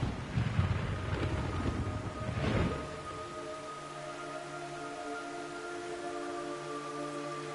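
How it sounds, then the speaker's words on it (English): Heavy rain and a rolling rumble of thunder in the Metal Gear Solid 3 video game, a loud wash of noise that swells early and then settles into a steady downpour with faint tones underneath. "It's raining blood."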